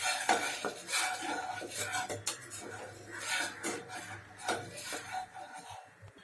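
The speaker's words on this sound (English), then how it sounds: "Mix this masala." A spoon stirring and scraping masala in a pan for palak paneer, with repeated close metal scrapes and clinks in an uneven rhythm against a faint sizzle.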